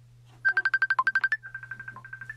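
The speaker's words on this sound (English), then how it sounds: "somebody's trying to call." Phone ringtone from an incoming call in a woodworking shop, a quick burst of rapid repeating electronic beeps followed by a softer repeat, alone and close by.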